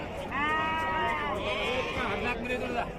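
Young black lamb bleating loudly and close at a livestock sale, one long wavering cry followed by shorter bleats, with crowd chatter and voices underneath.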